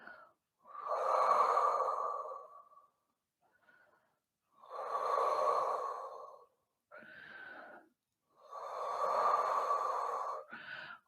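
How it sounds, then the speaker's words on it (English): Three slow, deep breaths drawn during a hamstring stretch in a home cardio Pilates workout, each a long, breathy rush lasting about two seconds, separated by short pauses and softer exhales, close and clear with no talking. "And just take some nice deep breaths there."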